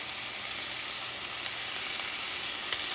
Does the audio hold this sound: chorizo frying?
yes